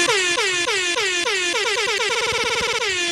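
Air horn sound effect blaring in rapid repeated bursts of descending, wailing tones, loud and clipped-sounding, forming a chaotic honking cacophony with no speech.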